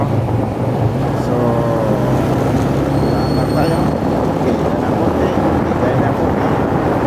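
Traffic on Ayala Avenue in the evening rush: a dense, steady roar of engines and road noise heard from a motorcycle, with a person speaking over it.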